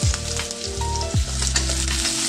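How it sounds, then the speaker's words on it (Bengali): Chopped onion fries in a pan with a loud, continuous sizzle close by, while a tonal hum under it dips and glides down a couple of times. "এর মধ্যে দিয়ে দিলাম একটু কুচি করা পেঁয়াজ।"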